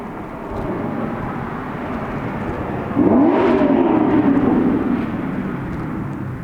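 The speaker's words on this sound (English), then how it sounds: "That was a Camaro showing off in front of the Maserati." Chevrolet Camaro engine revving up as it shows off on the street, rising to a louder roar midway and holding before easing off, over background traffic noise.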